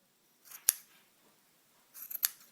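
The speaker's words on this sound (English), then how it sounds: "I'm just going to go around and trim a couple of these pom-pom pieces" Scissors snipping through crocheted yarn pom-pom strands, two quick crisp cuts separated by a pause, the second a cluster of short snips, close and clear against near silence.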